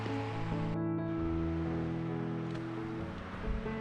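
A river swollen with water rushes over volcanic rocks, a steady close churning flow with a faint tonal hum layered beneath, no voices.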